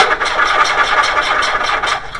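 VW A2 with a 1.8L engine that has no spark, cranking slowly without catching, giving a steady rhythmic churn of starter pulses throughout.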